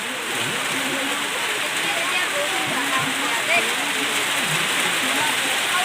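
Steady rain falling across an outdoor village football ground, a constant even hiss and patter with no pauses, with faint voices now and then underneath.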